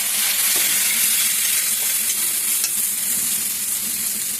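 Turmeric and chili masala fries in hot oil for a bamboo shoot curry, giving a loud, steady, close sizzle with faint stirring scrapes and no talk.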